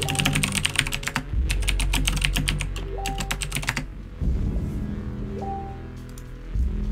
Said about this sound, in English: I'm just gonna type out a message here.